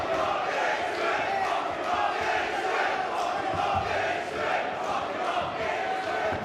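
A boxing crowd at a Tommy Langford fight roars with steady, dense cheering and shouting, a continuous wall of voices throughout.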